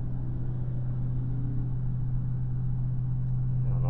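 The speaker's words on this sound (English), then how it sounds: "I don't know if that was that BMW that was sounding like that or what" A BMW car engine gives off a steady, low rumbling drone that holds at an even level throughout, with no voices over it.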